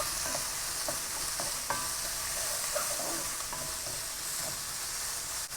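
Spring onions, chili and garlic stir-fry in a hot pan over high heat, giving a constant loud sizzle with occasional light clinks of stirring, no talk.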